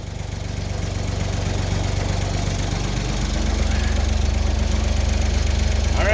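A tractor engine idles steadily on a homestead, a low continuous rumble with a faint knocking pulse that grows slightly louder partway through, heard alone without talk.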